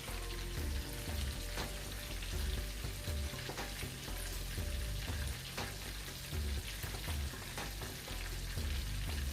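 Onions fry in a hot pan on a stovetop while being stirred, a loud, steady sizzle filling the whole stretch with scraping and stirring knocks scattered through it, no voices.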